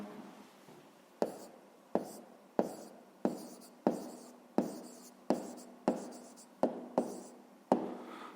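A pen writes out the answer to a fifth-grade math exercise, in a quiet room: about a dozen short, crisp scratching strokes, each starting sharply and fading, repeated at a steady rhythm close up.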